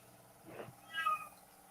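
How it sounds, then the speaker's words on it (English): A house cat gives one short, fairly close meow indoors, rising in pitch, heard alone against a quiet background. "That's Goose that's cheering over there now, if you can hear the meowing, and Lordy."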